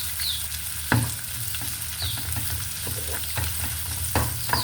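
Chopped onions frying in a pan for a Filipino tomato and egg sauté, a steady sizzle with spoon-stirring scrapes and a few sharp clacks against the pan.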